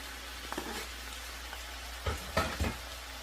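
Onion sizzles in a hot pan with a soft, steady frying hiss, broken by a few brief stirring clicks and knocks against the pan.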